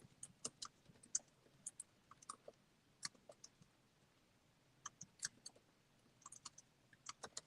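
Scattered keystrokes clack on a computer keyboard in short irregular bursts, close but quiet, over a faint room hum with no talking.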